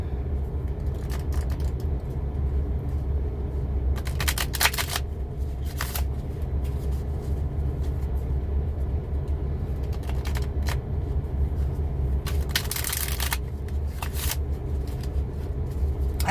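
Tarot cards being shuffled up close, repeated crisp bursts of riffling and flicking over a steady low background hum, with no talking.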